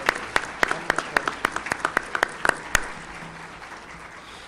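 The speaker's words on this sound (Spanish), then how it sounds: "Creo que merece otro aplauso" An audience at a book presentation on oil privatization claps for a deputy, a burst of brisk applause from a modest crowd that quickly thins and fades out.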